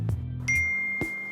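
A phone text message notification sounds as a short bright ding with a ringing tone that fades, after a low hum and small handling noises, close and clear with no talking.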